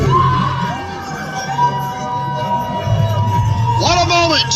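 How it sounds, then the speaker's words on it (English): A crowd at a GCW wrestling event roars and cheers after a television championship win, a loud, steady wall of voices with shrill whistles and yells rising over it, swelling again near the end. "And listen to this crowd."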